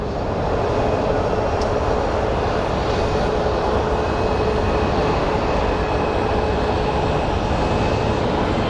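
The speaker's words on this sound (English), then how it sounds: "then I hear another plane engine" Airplane engine roar at Phoenix Sky Harbor airport, a loud, steady, broadband rumble that holds without a break and drowns everything else.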